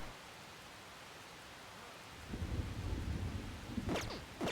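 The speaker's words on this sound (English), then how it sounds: "It's raining." Steady rain hisses in the Persona 5 Royal video game, then a deep rumble of thunder rolls in midway and swells, with sharp crackling strikes near the end; no voices.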